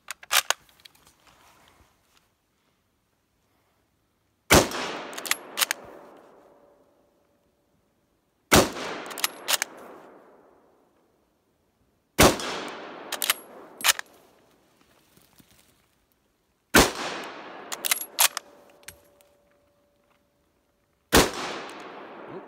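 A Lithgow Lee Enfield No1 Mk3 rifle fires five loud, sharp shots spaced several seconds apart, each followed by a decaying echo and the metallic clatter of the bolt being cycled, with no talking.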